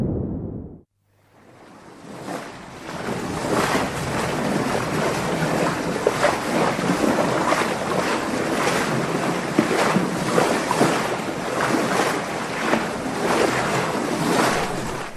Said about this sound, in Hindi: फिर युवराज नाव में बैठकर नदी पार करने लगते हैं।